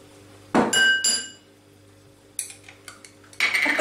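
A utensil clinks and scrapes against a bowl while ingredients for an Algerian taco sauce are stirred together, giving a few sharp ringing knocks and then lighter taps in a quiet kitchen.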